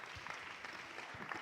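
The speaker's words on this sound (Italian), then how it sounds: "Un applauso." Applause in a hall at a festival of Italian regions and autonomous provinces, a soft, continuous patter of hands clapping, faint and fairly distant.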